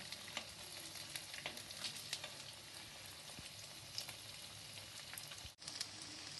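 Korean corn dogs deep-frying in hot oil at a home kitchen, a steady dense sizzle with crackling pops running throughout, a brief dip near the end.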